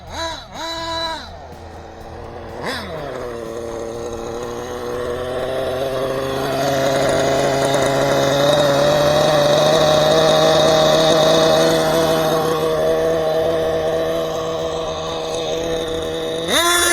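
A Kyosho Turbo Burns RC car's small nitro engine buzzes loud and close, revving up in short blips at first and then holding a rising, sustained high-pitched drone that struggles to rev fully.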